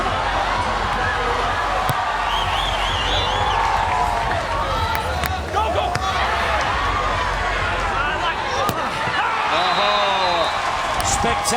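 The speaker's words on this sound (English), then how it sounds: "Crowd are absolutely loving it" Dense, steady roar of a cheering crowd at an FIVB World Tour Finals beach volleyball quarterfinal between Canada and Poland, sustained throughout with shouts and whistles rising over it.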